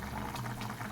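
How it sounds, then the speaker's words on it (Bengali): Curry broth for a bora curry bubbles at a boil, a close, continuous burble of liquid with no voices. "ততক্ষণে দেখি ঝোলটা ফুটে গেছে"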